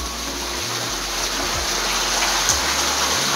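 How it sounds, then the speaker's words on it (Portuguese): Swimming pool cascade running at a beach house backyard, a steady, close wash of splashing water with no talk, holding evenly throughout. "Aqui tem essa piscina com cascata, já tudo ligado, funcionando"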